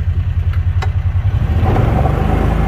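A 2003 Kawasaki Mule utility vehicle runs close by, its small engine chugging in a fast, even pulse that settles into a steadier, rougher hum.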